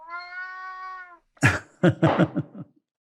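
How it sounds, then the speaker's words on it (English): A house cat meows close to the microphone: one long drawn-out meow, then a short run of four or five rougher, chirping meows, all loud and near with no talk over them. "I have a cat who appears at every interview I do."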